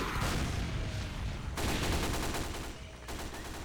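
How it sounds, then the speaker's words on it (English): Rapid submachine gun fire in a video game match, dense continuous bursts of automatic shots with brief breaks around the middle, loud and close with no voices. "Opts to use the SMG against Jingleheimer"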